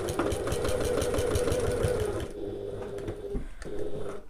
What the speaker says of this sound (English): I'm just doing a back stitch at the start, one line of stitching and a back stitch at the end.